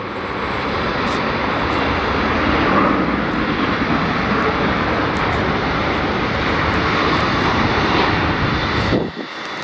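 An American Airlines Boeing 777-300ER jet bound for London Heathrow at LAX gives off a loud, steady roar of engine noise that holds evenly for most of the time before dropping away abruptly near the end, with no talk.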